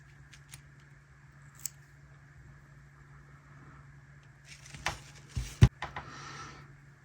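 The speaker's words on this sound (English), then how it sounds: "Let's cut a little piece of this off here." Scissors cut a small piece of craft material: a few crisp snips close up near the end, following several seconds of near silence.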